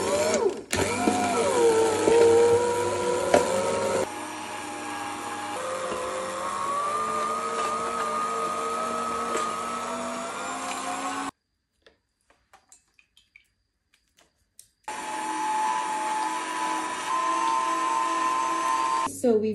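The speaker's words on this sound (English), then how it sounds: "So we've juiced all our ginger." A juicer grinds fresh ginger for a homemade flu remedy, a loud steady motor whine with shifting pitch and rattling running for about eleven seconds, cutting out to near silence, then starting up again just as loud.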